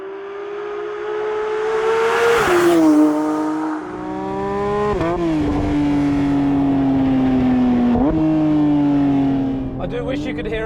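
Porsche 911 GT3 Touring flat-six engine revs hard toward 9,000 rpm, a loud, rising metallic wail that climbs, drops briefly at gear changes and climbs again under acceleration, heard steadily throughout.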